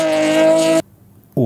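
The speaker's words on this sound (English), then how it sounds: "makes a difference between this waspy BMW exhaust" BMW car exhaust note with a waspy, buzzing harmonic tone, loud and steady for under a second before cutting off, then resuming briefly at the end.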